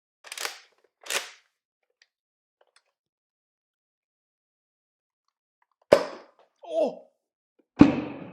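Homemade Nerf-style shotgun fired twice with sharp pops, then after a long pause a projectile smacks into a camera at close range, followed by a brief exclamation and another sharp impact.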